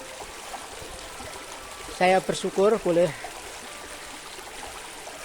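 A river stream runs over rocks during the dry season, its water making a steady, soft rushing wash throughout. Someone speaks briefly over it partway through.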